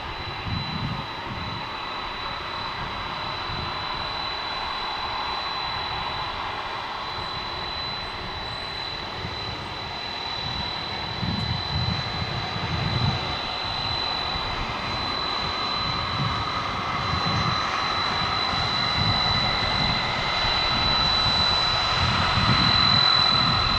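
An American Airlines jet takes off from runway 18 left at Dallas Fort Worth International Airport, its engines a steady roar that slowly swells louder over about twenty seconds, with a thin high whine on top.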